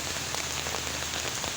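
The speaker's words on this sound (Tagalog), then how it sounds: "Maulan." Steady rain patters densely on a surface close by, an unbroken even hiss with no other sounds.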